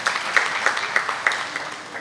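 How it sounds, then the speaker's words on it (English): Applause from a seated audience at a professional institute gathering of chartered accountants, a steady wash of many hands clapping at moderate distance with a few sharper claps standing out, no voices over it. "a big round of applause for each one of us to come forward"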